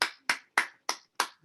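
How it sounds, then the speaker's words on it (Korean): A church congregation claps in praise at a Korean pastors' alumni retreat service: five or six loud, sharp, evenly spaced bursts of applause, each fading quickly before the next. "우리 하나님 앞에 영광의 박수로 올려드리겠습니다"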